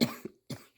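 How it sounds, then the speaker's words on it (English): Two harsh coughs from a person after smoking cannabis, close to the microphone, with a short gap between the bursts and no talking. "I'm coughing now."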